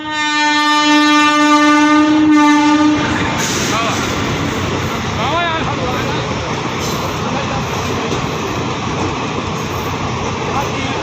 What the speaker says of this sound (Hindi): अब आप देखिए 15076 त्रिवेणी एक्सप्रेस का वीडियो जो हमने प्रयागराज से वापसी के समय बनाया था